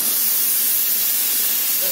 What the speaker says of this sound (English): now the steam is generated